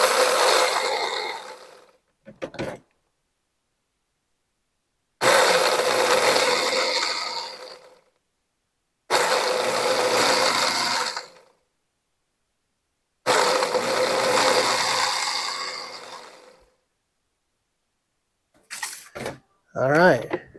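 A blender on chop mode at a lower speed setting breaks up dried chili peppers into flakes, running in four separate whirring pulses of a few seconds each with silent gaps between them.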